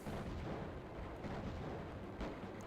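Missile battery explosions striking the player's ship in the video game Raptor: Call of the Shadows, a dense, continuous rumble of booms and bursts that stays loud throughout with no talk.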